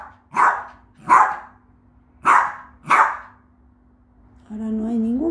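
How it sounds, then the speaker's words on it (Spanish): A dog gives four sharp, fairly close barks at roughly even intervals, then a whining, tonal vocal sound follows at the end. "Yo jugué con vos para que no ladres."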